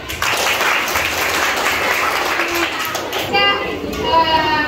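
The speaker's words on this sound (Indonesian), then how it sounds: "Oke, kita semua tepuk tangan dulu." Schoolchildren in a classroom clap together in a lively round of applause, with children's voices and chatter mixing in and growing more prominent near the end.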